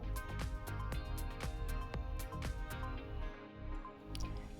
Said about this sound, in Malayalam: അതിലേക്ക് ഇനി ഒന്നര ടേബിൾ സ്പൂൺ അരിപ്പൊടി കൂടെ ചേർത്ത് കൊടുക്കുന്നുണ്ട് നന്നായിട്ട് മിക്സ് ചെയ്യാം